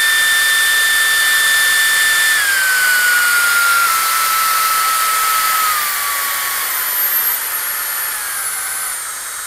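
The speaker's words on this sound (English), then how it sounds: "Let's say, here's full blast." An LK08 compressed air duster blows at full blast, a loud, steady rushing hiss with a high whine that steps down in pitch now and then and eases slightly near the end.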